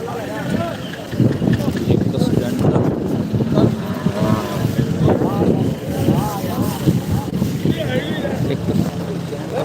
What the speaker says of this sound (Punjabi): ਹਵਾ ਚੱਲਦੀ ਆ ਠੰਡੀ ਬਾਹਰ